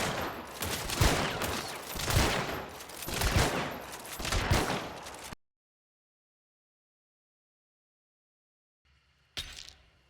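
Rapid gunfire from a Caldwell Marathon rifle in Hunt: Showdown, a loud fast string of shots for about five seconds, then silence, then one more brief sharp burst near the end.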